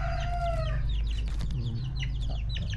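Chickens cluck and crow repeatedly up close, with several birds calling over one another against a steady low background hum.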